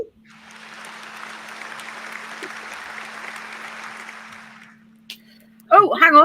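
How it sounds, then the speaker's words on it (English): Applause at a staged entrepreneurs show: a soft, distant-sounding patter of clapping swells and holds steady over a low hum for several seconds, then fades, and a person starts talking right after. "Hey, that's some applause."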